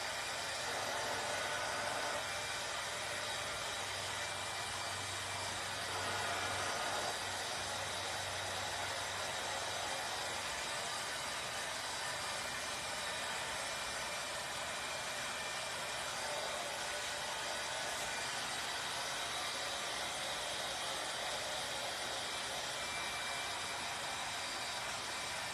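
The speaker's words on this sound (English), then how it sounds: "Or your heat gun. I use a heat gun." A heat gun blowing while shaping foam sheet rose petals, a continuous steady airy whir held at an even level for the whole stretch, with faint handling underneath.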